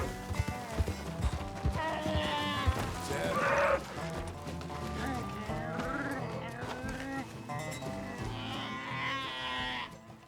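Sierra Nevada bighorn sheep bleat repeatedly on a mountainside in the video game Red Dead Redemption 2, several close, wavering calls over a steady background of game sound.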